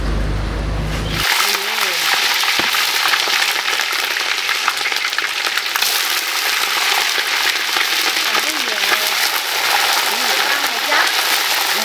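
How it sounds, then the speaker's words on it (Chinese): Chicken pieces from a large rooster hit a red-hot, well-oiled wok and burst into a loud, steady sizzle that holds without letup. Voices talk faintly underneath. "这烧鸡嘛，多煎几次"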